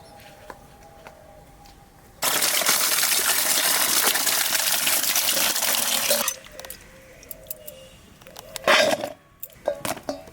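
Vegetables, tender pumpkin and Malabar spinach, are washed under running water: a loud, steady gush of about four seconds, followed by quieter splashes and a few clinks.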